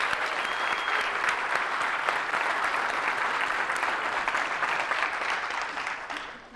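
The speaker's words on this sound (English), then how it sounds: "give a big round of applause for Bedros and what he's put together" An audience gives a big round of applause at a live event, sustained crowd clapping at a moderate level that tapers off at the very end.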